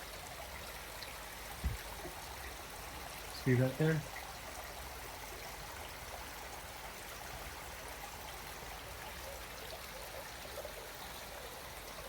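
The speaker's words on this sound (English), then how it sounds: "Oh yeah, you can see the river down there." A river flows below the Bettei Senjuan hot spring resort in Tanigawa Onsen, Minakami, Gunma, giving a steady, faint rushing wash, with a brief spoken line and a couple of soft knocks over it.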